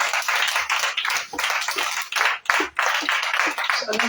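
A church congregation at a prayer vigil in Gagnoa applauds, with dense, continuous loud clapping and a few brief dips.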